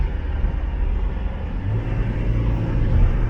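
A Toyota Grand Innova with a 2KD diesel engine rumbles close by and builds slightly in the low range as it accelerates, a steady loud drone with no voices.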